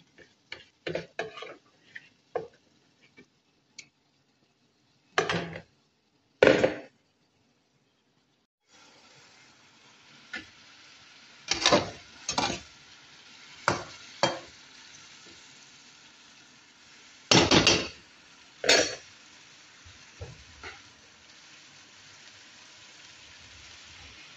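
Shawarma meat fries and browns in a pan with a soft continuous sizzle, broken by sharp clatters and scrapes that come in scattered bursts.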